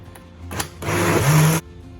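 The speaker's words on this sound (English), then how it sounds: "give a couple more seconds on the blender to just liquefy" A blender liquefying jackfruit seed punch whirs at full speed for under a second, then cuts off abruptly after a couple of short bursts.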